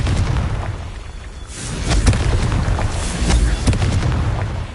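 Confringo fire spells explode in Hogwarts Legacy on PS5 Pro, several booming blasts landing over continuous loud rumbling battle noise, close and heavy, with no talking.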